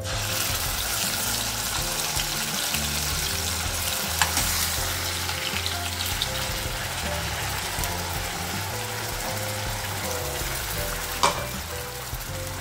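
Prawn curry masala sautéed in oil in a pan, a steady, loud, close sizzle and fry throughout with occasional scrapes of stirring.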